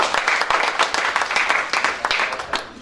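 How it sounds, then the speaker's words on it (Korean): A crowd claps in steady, moderately loud applause at a contract signing ceremony for Seongnam City's takeover of the Seongnam Ilhwa Chunma professional football club, with dense overlapping claps that continue throughout. "모두 힘찬 박수로 계약식을 축하해 주시기 바랍니다."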